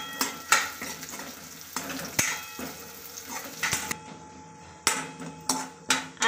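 Capsicum and carrot sautéing in a pan for a homemade burger, with a steady sizzle broken by repeated spatula scrapes and clinks against the pan, close and fairly loud, with no voices.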